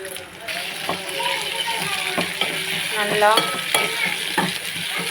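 Green chillies and a small tomato sauté in hot oil for puli kuzhambu, a steady close sizzle broken by repeated scraping stirs of a spoon against the pan, with a voice speaking over it.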